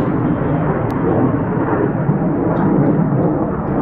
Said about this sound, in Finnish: Phantom-tyyppiset hävittäjät aiheuttaa valtavaa meteliä ja pahoittelemme häiriötä.